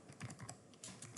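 Typing on a computer keyboard while entering a search to install PgAdmin4 in a Chrome browser; a quick run of soft, close keystroke clicks in uneven bursts with no talking.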